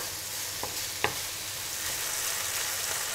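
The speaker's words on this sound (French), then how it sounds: "La poêle est chaude, ça commence à chanter. Parfait, on va rajouter maintenant la morteau." Morteau sausage frying in a hot pan, a steady, close sizzle that runs throughout with a couple of brief clicks from the pan early on.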